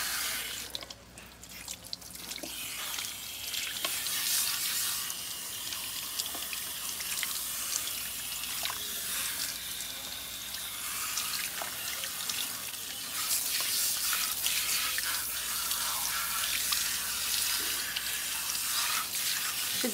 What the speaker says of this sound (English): So we're going to go ahead and rinse her with warm water.